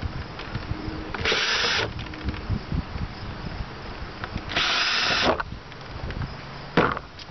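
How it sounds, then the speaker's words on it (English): A power drill bores holes through a homemade solar panel frame in three short whining bursts, separated by softer handling and scraping noises nearby. "So I'm going to drill my holes through here so I know where to put it when I get to the other side."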